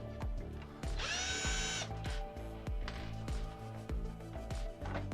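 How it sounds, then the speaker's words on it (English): Screw gun loosening screws in a PC case, short bursts of whirring motor with rhythmic clicking and ratcheting, close and steady, one longer high-pitched spin partway through. "definitely use a screw gun to loosen them"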